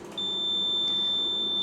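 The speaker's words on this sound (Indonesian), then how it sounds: "bunyi buzzernya seperti ini." Fluke 376 true-RMS clamp meter continuity buzzer with leads shorted at 0 ohm, emitting one steady, high-pitched electronic tone that holds continuously, close and clear, with no talking.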